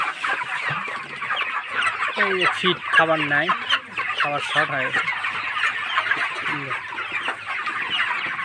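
Several hundred chickens on a poultry farm being sprayed against viruses, a dense flock clucking and squawking close by in repeated overlapping calls, with someone talking over them.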